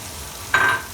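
Small chopped mushroom pieces hitting a hot pan and bursting into a loud sizzle that starts abruptly and fades back to quiet kitchen background after a moment.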